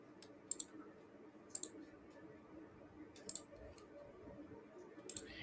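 Sparse, crisp clicks of a computer keyboard come in small clusters of two or three keystrokes, spaced about a second apart, over a quiet room hum.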